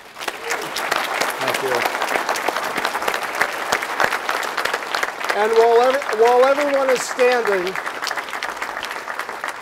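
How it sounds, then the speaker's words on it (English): Sustained audience applause fills a lecture hall at a fireside chat event, dense and steady throughout, while someone speaks briefly over it. "a big round of applause"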